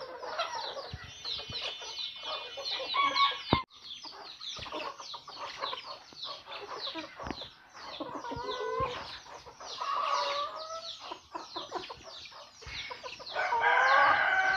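Foreign-breed chickens, including silver mottled Cochins, one rooster and two hens, cluck steadily nearby while the rooster crows several times, close and clear with no talking.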